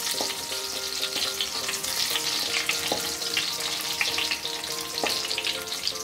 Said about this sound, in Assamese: 5 মিনিটৰ কাৰণে মই অকণমান এনে ভাজি লম